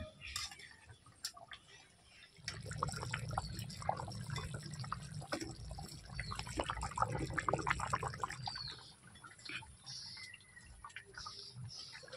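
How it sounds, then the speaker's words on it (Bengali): Water is poured into a chicken curry simmering in a pan with fried potatoes, a soft continuous pouring rush under light clinks and ticks of utensils, close and fairly quiet. "এবার আমি জল দিয়ে দেবো।"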